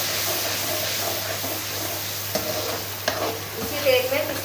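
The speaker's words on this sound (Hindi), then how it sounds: "फिर उसी कढ़ाई में उसी तेल में मैंने प्याज डाली। ठीक है। थोड़ा सा इसको फ्राई करेंगे।" Onions sizzle in oil in a kadhai, a steady close frying hiss running throughout with a few light stirring scrapes near the end.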